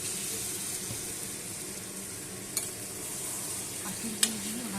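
A spoon stirs prawn curry with sugarcane jaggery in a pan, a soft continuous sizzle and scraping with a couple of sharper clicks against the pan.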